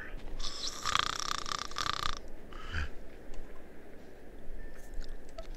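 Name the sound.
people imitating snoring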